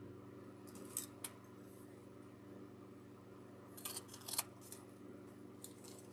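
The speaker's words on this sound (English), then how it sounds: "I might have to trim up some of these tails, especially like this one." Scissors trimming ribbon tails on a chocolate-toned wreath, a few quiet crisp snips scattered over several seconds against a steady low hum, faint and close with no talking.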